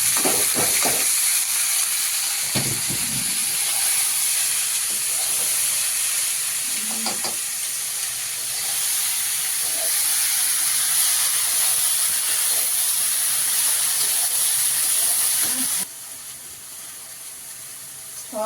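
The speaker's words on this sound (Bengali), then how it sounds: "এখন কড়াইতে দিয়ে দেবো ছোট ছোট করে কুচানো কলমি শাকটা" Chopped water spinach hitting a hot wok with onion, crushed garlic and split green chili, a loud continuous hiss and sizzle with scattered stirring knocks, close up, easing off before the end.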